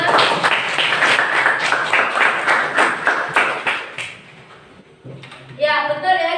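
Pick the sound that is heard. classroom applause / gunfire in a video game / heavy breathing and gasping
classroom applause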